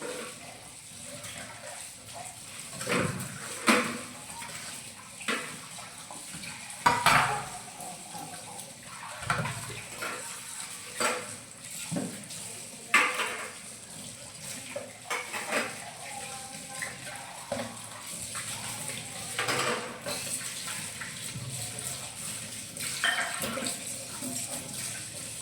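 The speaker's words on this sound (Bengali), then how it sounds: "এই যে বাসনগুলোকে মেজে নিলাম" Dishes and pots being scrubbed and rinsed under running tap water in a home kitchen, with intermittent clatters and splashes over a steady water hiss, fairly close.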